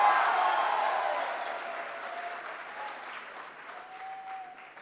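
A hall audience applauds at a motivational talk, the clapping loud at first and then thinning and fading, with faint crowd murmur and a brief whistle-like tone.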